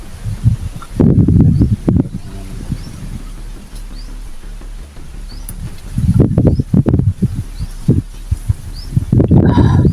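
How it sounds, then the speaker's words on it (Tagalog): Gusts of wind rustle leaves in loud bursts that rise and fall, with quieter calm stretches between and faint bird chirps. "Sobrang lakas ng hangin."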